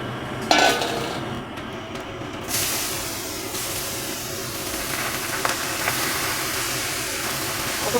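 Raw papaya pieces drop into hot oil with black cumin and chilli in a pan, giving a sharp clatter followed by a steady sizzle and light scraping that continues for several seconds, with no talk.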